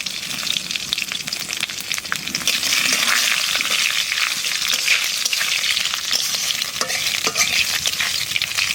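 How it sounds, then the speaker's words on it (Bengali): Dry red chillies and bay leaves frying in hot oil in a pan for a country chicken curry, giving a steady, loud sizzle with scraping stirs throughout and no voices. "তেলের পাত দিয়ে দেবো শুকনো লঙ্কা তেজপাতা"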